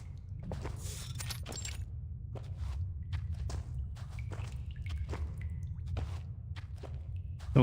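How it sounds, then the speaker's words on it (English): Soft, evenly spaced footsteps pass through a dripping tunnel in the video game Reverse: 1999, sharp little drips and squishes sounding over a low, constant ambient hum. "Only the sound of dripping waters and soft footsteps can be heard in the tunnel."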